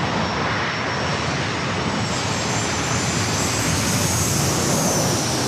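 A Southwest Boeing 737 jet passes directly overhead near San Diego airport, a loud, steady broadband engine roar filling the air with a faint high whine on top.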